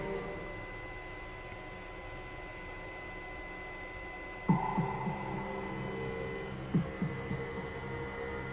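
Cooling fan of a Capcom CPS2 arcade board running, a steady close hum with a constant tone, joined midway by a few soft knocks as the board is tilted.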